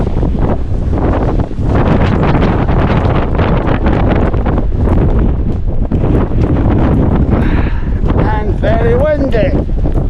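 Strong gusting wind buffets the microphone on an exposed mountain summit in the Cairngorms, a loud continuous roar throughout, with a voice speaking briefly near the end.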